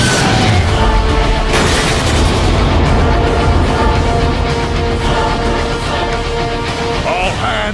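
Weapons fire aimed at tow cables in the video game Transformers: Fall of Cybertron, dense booming blasts and explosions layered over a music score, with a loud burst early on and a voice talking over the battle.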